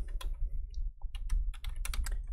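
Typing on a computer keyboard while entering a router security setting, a quick run of close, crisp key clicks in short uneven bursts over a low background hum.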